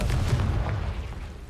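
Confringo explosive spell going off in the Hogwarts Legacy video game: a heavy, rumbling boom followed by a brief rolling decay, fairly loud and with no talking over it.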